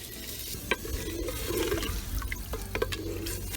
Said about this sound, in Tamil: தண்ணி ஊத்துறேன்